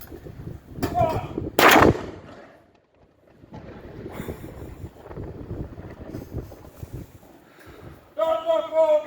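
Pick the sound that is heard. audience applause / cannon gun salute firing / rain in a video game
cannon gun salute firing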